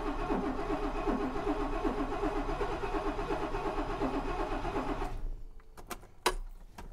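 Car engine cranking repeatedly on a starter, a rhythmic churning grind for about five seconds that stops, followed by a few faint clicks and a short knock.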